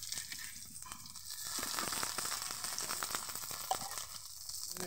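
Okra and jute leaf fritters sizzle and crackle in hot oil, a steady close frying hiss with small pops and occasional stirring clinks, and no voices over it.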